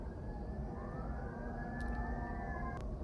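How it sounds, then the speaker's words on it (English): Sirens wail steadily in the background for the whole stretch, a continuous rising-and-falling tone under faint street traffic, fairly distant, with no talking. "sirens in the background."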